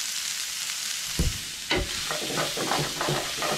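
Meat frying in bacon grease in a pan, a loud continuous sizzle with a couple of sharp knocks and scraping stirs as pieces are moved around.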